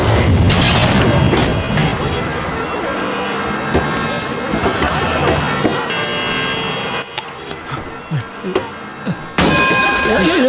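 A vehicle accident crash plays out as a dense, loud burst of smashing, splintering impacts and rumbling booms, easing into scattered thuds and debris clatter before a final loud surge.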